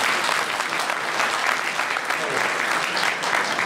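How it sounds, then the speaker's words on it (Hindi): Sustained audience applause in a hall at a gathering marking 23 March, steady dense clapping for several seconds with crowd noise underneath. "ताली तो लगा के मुबारक के लिए।"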